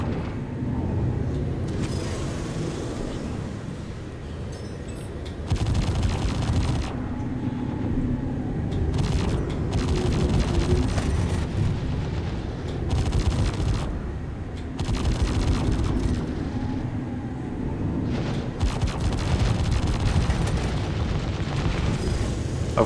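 Spaceship guns in the Star Citizen space combat game fire in steady, loud bursts. Rumbling blasts and booming impacts roll on without pause, with some brief dips between volleys.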